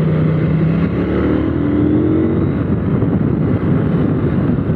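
KTM 890 Duke R motorcycle engine on a kart track, a loud close roar with rising pitch sweeps as it accelerates out of a corner, buffeted by wind noise throughout.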